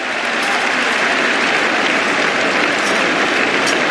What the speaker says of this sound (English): Johnny Bairstow is on his way and getting a good round of applause as well.